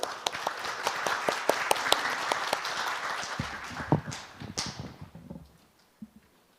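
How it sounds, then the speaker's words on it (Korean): A conference audience applauds as the head of a Korean telecommunications policy research institute is welcomed to give an opening address. Dense, steady clapping for about three seconds thins into scattered claps and dies away, with some faint shuffling. "박수로 맞이해 주시기 바랍니다"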